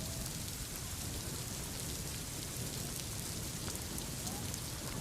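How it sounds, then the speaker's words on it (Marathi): Heavy monsoon rain pours steadily over Mumbai, a dense, continuous hiss and patter filling the whole stretch with no letup. "मुंबईसह कल्याण डोंबिवली ठाणे शहापूर या ठिकाणी मुसळधार पाऊस कोसळतोय"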